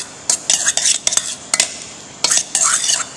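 A spoon stirs salsa with a little oil in a bowl, making quick bursts of wet scraping and light clinks broken by short pauses, close by and fairly loud.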